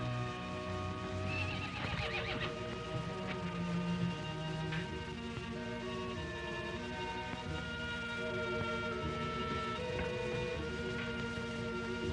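A horse whinnies over a busy background of orchestral music, with hoof clops mixed in; no one speaks.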